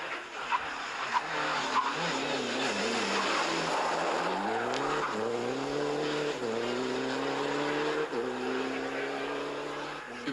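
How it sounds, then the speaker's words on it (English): A Golf TDI race car skids across a bump into a ditch beside the track, engine droning and tires scrubbing in wavering sweeps through a continuous, fairly distant roar. "Fest steht, Herbert Lettner kommt nach einer Bodenwelle links in einen Graben und touchiert in der Folge 2 Betonrohre."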